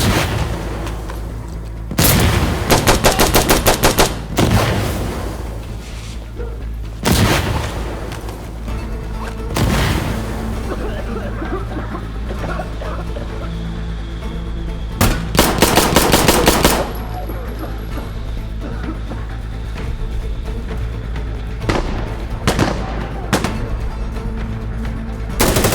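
Bursts of automatic gunfire and heavy booming shots in the game Insurgency Sandstorm, loud and close, coming in repeated clusters over steady battle noise.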